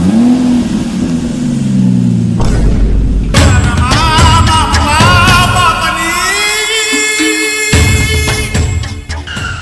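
A car engine revs up loudly and keeps running as the vehicle pulls away, with rising mechanical whine and steady rumble, close and prominent throughout.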